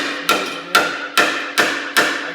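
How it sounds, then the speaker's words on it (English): Hammer pounding bowed-out sheet metal on a snow blower, five hard ringing metallic blows at a steady, unhurried pace, close and loud with short decaying rings between strikes. "I'm just gonna take a hammer"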